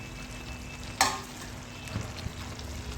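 Okra and onion curry with fried onions and garam masala is stirred in a hot pan, a sharp scrape of the spoon followed by soft clinks and a low continuous sizzle, with no one speaking.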